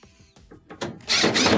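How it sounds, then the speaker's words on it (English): A power drill with a Phillips bit drives screws into a Maytag dryer during heating-element repair; a few short stuttering bursts build into a loud, steady whir at the end. "switch over to your Phillips bit. Reattach your 2 screws inside."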